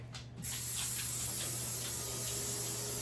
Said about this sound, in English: spray my pan real quick